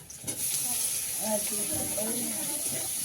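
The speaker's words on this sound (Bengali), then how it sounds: "কাঁকড়াটা লাল লাল করে ভাজা হয়ে গেছে" Crab pieces fry with onion and green chilli in a pan, giving a steady hiss and sizzle throughout while someone talks over it.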